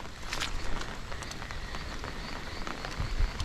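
Heavy monsoon rain falls outdoors in a steady, dense hiss, with scattered louder drops and splashes standing out, fairly soft and unbroken throughout.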